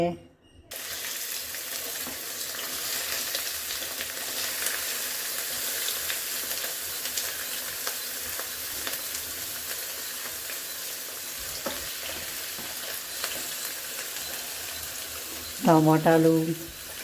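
About two tablespoons of oil heats in a pan for ivy gourd chutney, giving a steady, loud sizzling hiss that runs continuously, with a voice briefly speaking near the end.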